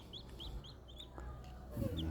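Newly hatched chicks peep inside a homemade cardboard-box incubator, a run of short, evenly spaced high chirps followed by a louder rustle and one more peep near the end.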